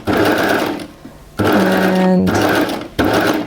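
A Baby Lock serger stitches gathered fabric with long stitch length and high differential feed, two loud bursts of rapid mechanical whirring separated by a pause, with a brief spoken word.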